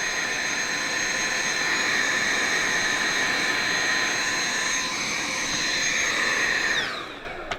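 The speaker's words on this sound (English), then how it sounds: "I'm just going to get the vacuum cleaner" A vacuum cleaner whines loudly and steadily while cleaning a Dyson Hot & Cool HP04 fan, its motor winding down near the end.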